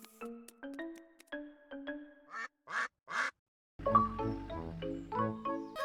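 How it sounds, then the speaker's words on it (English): Duck quacks in the Peppa Pig video game, two short nasal quacks set between bright chiming musical notes and a playful melody. "Following these tracks, you'll eventually come across two little ducklings."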